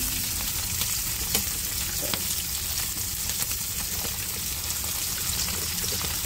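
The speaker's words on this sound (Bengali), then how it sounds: "এভাবে আমি সব মাছ কটা ভেজে নেব।" Tengra fish fry in hot oil in a loud, steady, close-up sizzle that fills the whole stretch, with small pops and faint clinks scattered through and no talking.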